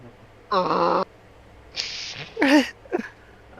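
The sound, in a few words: voice imitating happy cat noises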